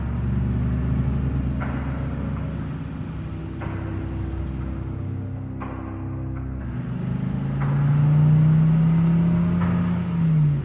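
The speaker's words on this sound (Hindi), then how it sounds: "आलोक भी अपनी जीप को लेकर बाबा के बाइक के पीछे पीछे चला जाता है" A jeep driving along a rough, bumpy jungle track: a continuous low engine rumble and whir that swells into a louder, revving surge near the end, with no voices.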